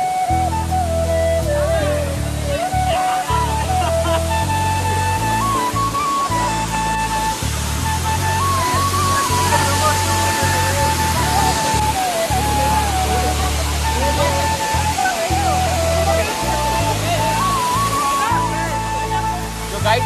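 Keshkal Kuyemari waterfall roars in a continuous, loud rush of falling water, with a voice talking over the torrent throughout.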